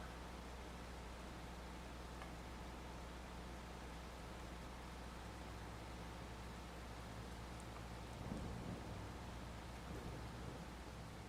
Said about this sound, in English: it'd be nice if the rain would go away